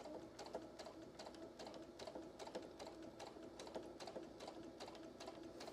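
A sewing machine with an open-toe foot stitches a bench pillow or wall hanging in a steady, fast rhythm of close mechanical clicks, quiet and even throughout with no talk.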